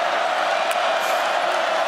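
A stadium crowd roars at a Missouri home college football game against Georgia in 2022, a steady, dense wall of cheering and noise with no break.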